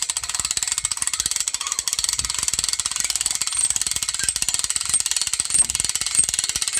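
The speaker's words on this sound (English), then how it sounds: "I am cranking it with one hand" Hand-cranked ratchet winch on a log arch, lifting a log on chain through snatch blocks, gives a rapid, steady run of close, sharp metallic clicks with no pauses.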